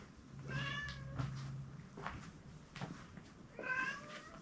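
Stray cat meowing in an abandoned mountain building, three or four drawn-out, wavering meows spaced across a few seconds, fairly close, over a low steady hum with no talk.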